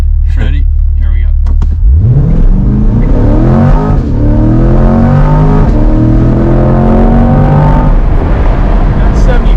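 A C8 Corvette Z51 launches hard on a 0-60 run, engine roaring up through rising revs with gear shifts, loud and close from inside the cabin, with voices heard over it.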